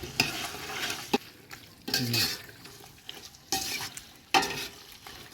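Carrots and tomatoes being stirred together in a cooking pot, with a few distinct scraping strokes of a spoon against the metal over a soft background hiss, moderately close and without talk.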